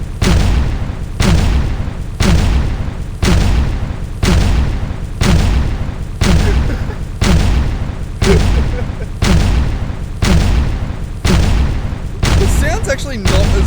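Grenade explosions in a video game, a steady series of about twelve heavy booming thumps spaced roughly a second apart, loud and close, with no other sounds between them.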